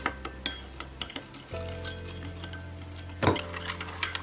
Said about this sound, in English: we stir until the sugar totally mixed with the sauces